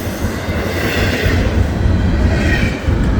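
An FEC freight train passing a grade crossing at close range, a loud, steady roar of wheels and rolling cars with rail rumble and faint wheel squeal throughout, no talk.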